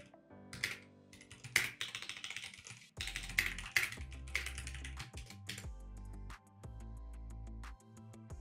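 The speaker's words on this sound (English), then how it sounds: "you simply just type a message and hit enter" Someone types a message on a computer keyboard, with clusters of quick, close key clicks and taps in an irregular rhythm over a low, steady hum, with no one speaking.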